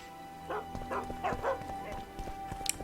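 A dog in The Witcher 2 gives a run of about five barks in close succession over a steady game background hum, with a faint click near the end.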